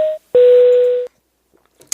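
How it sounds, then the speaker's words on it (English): Telephone dialing a call: a short tone, a pause, then a longer steady tone lasting most of a second, clean and close, followed by faint small clicks. "Let's call Kevin Clarke"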